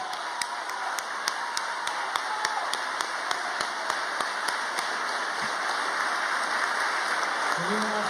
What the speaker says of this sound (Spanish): Un aplauso para Kiko.